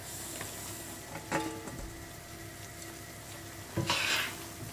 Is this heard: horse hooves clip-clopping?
no